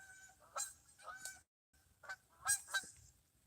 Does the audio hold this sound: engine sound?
no